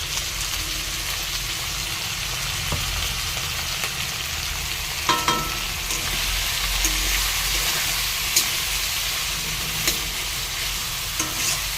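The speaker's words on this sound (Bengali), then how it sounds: "এখানে আলু পেঁয়াজ দিয়ে একটু ভেজে নিচ্ছি" Potatoes and onions frying in a pan at close range, a continuous bubbling sizzle with a few light clinks of stirring, with no talking.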